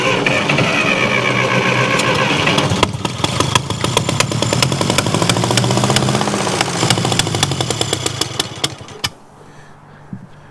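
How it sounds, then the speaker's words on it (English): A 1949 Ferguson TEA 20 tractor engine, abandoned and gummed up, runs close by with a rapid, uneven putter for about nine seconds, then cuts out and falls quiet. "Sounds just like a little tractor"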